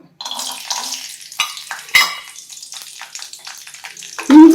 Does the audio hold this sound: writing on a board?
no